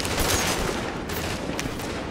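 Dense gunfire in the game The Division, fired from behind cover, a continuous loud crackling barrage of rapid shots with a few sharper cracks standing out, no talking.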